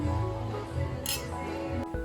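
Glasses of red wine clink together in a toast at a terrace meal, one bright, brief ring heard close up against a steady background hum.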